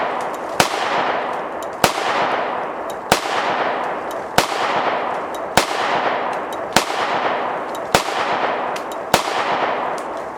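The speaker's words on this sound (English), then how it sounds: "We're shooting 115 grain full metal jacket today." A Springfield Armory EMP Ronin 9mm 1911 pistol fires 115 grain full metal jacket rounds at a range: eight loud, sharp shots at a steady slow pace, each followed by a long reverberant tail, with no talk.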